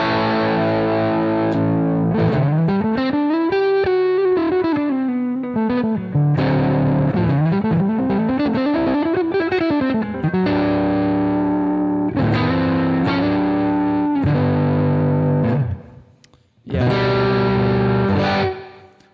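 Distorted electric guitar through a Fender Champ impulse response, playing sustained bends and chords, loud and close, with a brief pause near the end.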